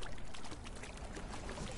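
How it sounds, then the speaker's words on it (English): Water skin being refilled while wading in water in Conan Exiles, a steady soft pouring and trickling wash heard faintly with no speech. "Refill water skin? Sure. Just gotta come in the water."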